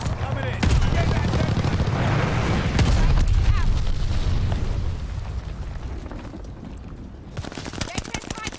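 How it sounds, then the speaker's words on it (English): Glide bomber airstrike in Call of Duty: Vanguard, heavy explosions and rattling gunfire that roar for several seconds and then thin out into scattered pops and crackles, with some game voices mixed in. "Glide bomber assist coming in."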